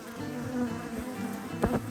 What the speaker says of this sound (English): As you can hear, the bees are ramping up.